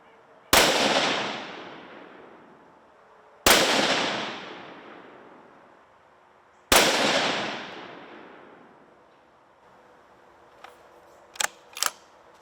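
Three loud rifle shots from a Browning AB3 Hunter, spaced about three seconds apart, each a sharp crack with a long echoing decay, followed by a few faint clicks near the end.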